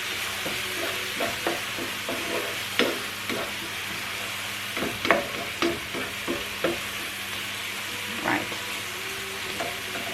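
Grated tomato goes into a hot pan and is stirred, giving a steady close sizzle broken by repeated scraping and tapping of the utensil against the pan while seafood fideuà pasta cooks.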